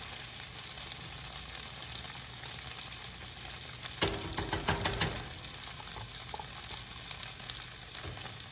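Gnocchi and freshly grated garlic sizzle in a hot pan with a steady, close frying hiss, and a brief burst of stirring and scraping comes midway.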